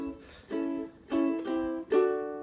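A plucked ukulele plays a short melodic phrase, a few bright strums and notes ringing out in quiet surroundings.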